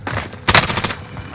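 A short, loud burst of rapid gunfire in a video game, a quick rattling volley of closely spaced shots following a softer lead-in.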